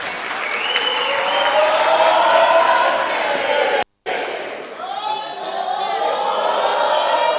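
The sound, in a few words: audience clapping and cheering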